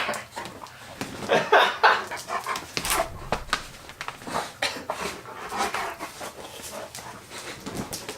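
A freshly bathed pet dog named Taz whimpers and pants in close, irregular bursts, with snuffling and rustling movement, mixed with brief vocal whines and no clear talk.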